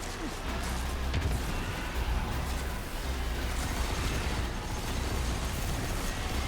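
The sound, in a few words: weapon firing in Destiny 2 video game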